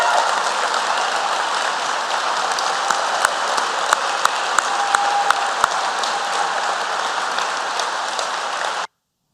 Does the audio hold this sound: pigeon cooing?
no